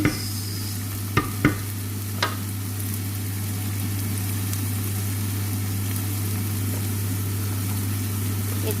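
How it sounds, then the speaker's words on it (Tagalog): Potatoes are stirred in a frying pan, giving a low continuous sizzle over a steady hum, with a few sharp utensil knocks near the start. "Halo lang siya ng halo,"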